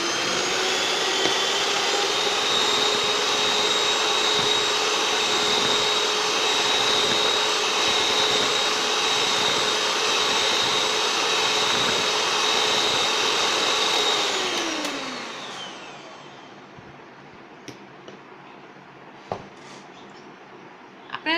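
An electric beater whips chocolate ice cream mixture in a bowl, giving a steady loud motor whine with a high tonal hum for about fifteen seconds, then winding down and stopping, followed by quiet handling clatter.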